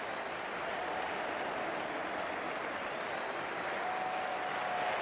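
Cricket crowd applauding a batsman reaching 150 in an England versus Australia Ashes Test, a steady, dense wash of clapping and crowd noise that holds evenly throughout.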